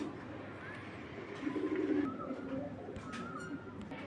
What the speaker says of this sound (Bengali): বিদেশি কবুতরগুলো এখন সচরাচর এই লাইনের কবুতর এখন পাওয়াই যায় না